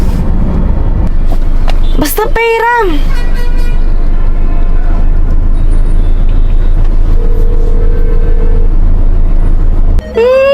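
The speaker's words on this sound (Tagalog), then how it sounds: "Grabe yung traffic!" Heavy road traffic fills a congested street with a constant low engine rumble and sharp, repeated horn toots. Voices talk loudly over the din.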